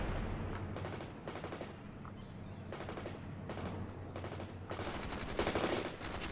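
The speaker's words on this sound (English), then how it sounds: "Just launching grenades over." Repeated bursts of rapid weapon fire in the real-time strategy game World in Conflict, with short regular rattling volleys separated by brief gaps and a heavier, denser barrage near the end.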